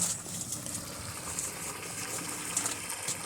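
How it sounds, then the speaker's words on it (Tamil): A 3 HP solar water pump on a farm pushes water out through a two-inch pipe, making a continuous close gushing rush that holds steady throughout with no talk. "அதில் பார்த்தீங்கன்னா ரெண்டு இன்ச்சு தண்ணி ஃபுல்லாக வருது"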